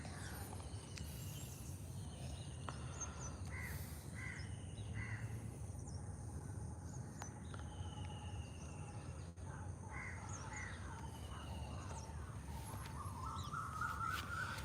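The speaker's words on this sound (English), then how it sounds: "That's a coel." Morning in a Colombo cemetery: an Asian koel gives repeated, faint rising calls from a distance amid cawing crows and a steady insect hum.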